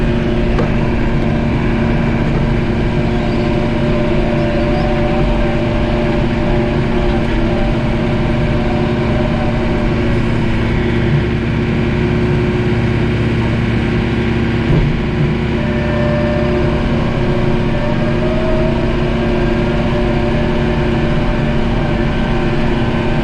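A John Deere 4066R tractor engine runs at a steady idle, a constant low droning rumble with faint mechanical hum, unchanging throughout and with no voices.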